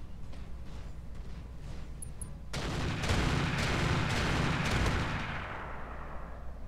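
Pepperbox rifle firing in the mech game RogueTech: a quiet rumble of distant battle, then a sudden loud volley of rapid blasts that roars for a few seconds before easing into a lingering rumble.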